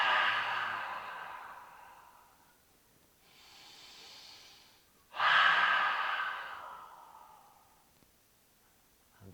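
Two long breaths out through an open mouth during a yoga breathing exercise, each a loud airy rush that fades away, with a quieter inhale between them.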